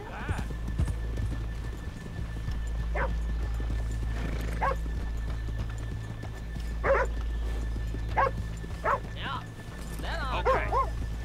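Horse hooves clip-clop steadily on a town street in Red Dead Redemption 2, with dogs barking and a horse whinnying at intervals over a low background hum.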